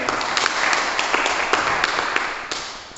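A church congregation claps, a dense run of sharp hand claps with a few louder accents, fairly close and steady over a brief stretch.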